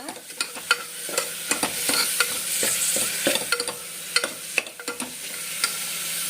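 Onions and green chillies frying in a pan give a bright continuous sizzle, broken by frequent sharp scrapes and taps of a spoon stirring, close and loud with no speech.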